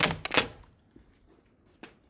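A latch on a chicken coop door to the outside clicks and rattles in a few quick metallic taps, followed by faint soft knocks as the door opens, close up and fairly quiet.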